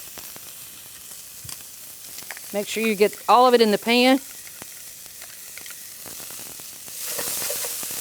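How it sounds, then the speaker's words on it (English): A soft, steady sizzle of shallots and garlic frying in a pan, with a person speaking briefly over it. "You can hear that nice little sizzle."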